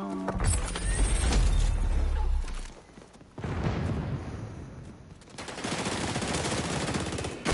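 Gunfire from the shooter game XDefiant on PS5 crackles in loud, rapid automatic bursts that break off briefly, then resume in dense volleys.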